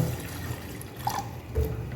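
Water is poured into a pan of palm sugar, a steady soft liquid splash and trickle heard close up with no talking.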